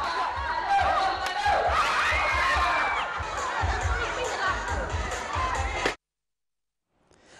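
A lively crowd cheers and shouts excitedly at an elderly folk sports contest in Yala, Thailand, voices overlapping loudly for several seconds before cutting off into silence, then faint sounds return.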